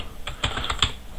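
Keys tapped on a computer keyboard, a short run of a few distinct clicks close by, moderately loud in a quiet room with no talking.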